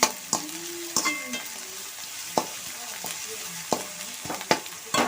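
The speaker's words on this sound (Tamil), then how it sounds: "இது நல்லா வதங்கட்டும்." Pasta ingredients sautéing and being stirred in a pan at home, with intermittent scraping clatters of a spoon against the pan over a steady soft sizzle, close and alone.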